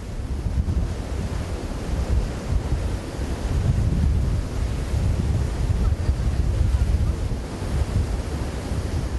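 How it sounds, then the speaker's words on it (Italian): Sea waves wash steadily onto the Sardinian coast of Ogliastra, a continuous rolling surf roar with gentle swells, mixed with wind buffeting the microphone and no voices. "Un mare unico e indimenticabile."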